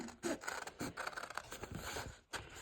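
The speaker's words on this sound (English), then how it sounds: "just kind of gliding that paper back and forth through your scissors" Scissors cutting paper for a placemat template, giving close, repeated snipping and rasping strokes in an uneven rhythm as the paper is fed through the blades, with no talking.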